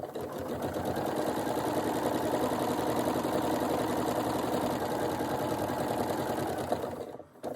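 A sewing machine stitches a fabric storage pouch in one long, steady, close run of fast mechanical whirring that stops abruptly near the end.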